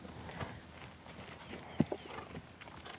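A horse trots in a circle on a lead rope, its soft hoof clops faint and rhythmic over quiet ground, with one sharper thud partway through.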